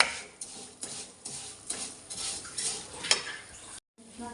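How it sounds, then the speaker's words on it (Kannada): Ingredients frying in ghee in a pan for sweet sevige, a soft crackling sizzle broken by the scrape and clink of a spoon stirring against the pan, quiet and close, with no voices. "ತುಪ್ಪದಲ್ಲಿ ಚೆನ್ನಾಗಿ ಫ್ರೈ ಆಗಬೇಕು"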